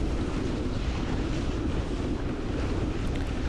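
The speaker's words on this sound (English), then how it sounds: "we'll come into the surf zone here, lining up a couple swells here" Surf breaking at Jupiter Beach, Florida, heard from a kiteboard riding into the surf zone, a steady loud wash of water blended with heavy wind rumble on the microphone, with no voices.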